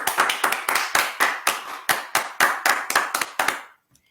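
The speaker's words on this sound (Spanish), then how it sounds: "Así que va el aplauso para todos." Hand clapping from listeners at the close of a talk: about a dozen sharp, close claps in a quick, fairly even rhythm, then an abrupt stop into silence.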